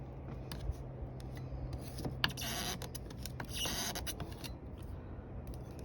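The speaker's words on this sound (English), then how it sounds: "So we're just trying to pry the pad up." An old spa pad is pried up by hand, giving a steady close scraping and rubbing texture with repeated creaks and small cracking snaps, one sharper pop standing out, and no talking.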